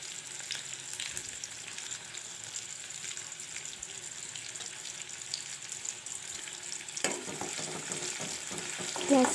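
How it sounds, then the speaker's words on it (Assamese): Onions frying in hot oil in a wok, a steady close sizzle running throughout with a faint clatter of stirring near the end; no talking. "এতিয়া কেৰাহী এখনত তেল গৰম কৰি তাত পিঁয়াজ"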